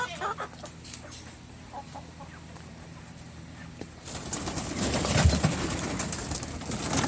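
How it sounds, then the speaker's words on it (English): Hens and Malay poultry cluck and coo as they are let out of their coop in the morning, faint at first and then louder and busier as the flock spills out. "now we're gonna go let out the hens and the Malay poultry"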